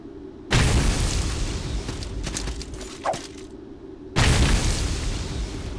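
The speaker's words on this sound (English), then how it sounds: "See how grenades work on him." Two loud grenade blasts from the video game Salt and Sanctuary, each a sharp booming explosion with a long rumbling tail, separated by a few seconds of lingering noise.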